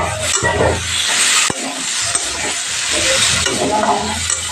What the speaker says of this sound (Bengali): এবার আলুর সাথে মশলাটাকে আমি একটু ভালো করে গুছিয়ে নিচ্ছি